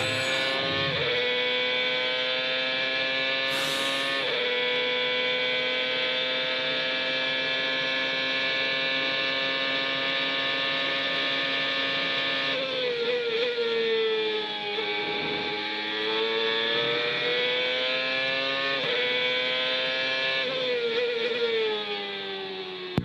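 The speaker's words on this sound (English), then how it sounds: "We're going to go on board with Bruno and ride a while to the sounds of speed." Bruno's CART race car at full speed on an onboard lap of Road America in 2002, its engine a loud, steady high-pitched howl that dips and climbs again at several gear changes.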